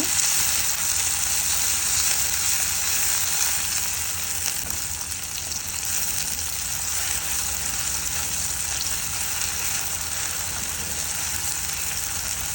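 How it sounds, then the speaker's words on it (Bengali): Raw garlic pieces frying in hot oil in a pan, a steady close hiss and crackle of sizzling that continues evenly without pause. "রসুনটা কাঁচা রসুন ভাজি হতে হবে"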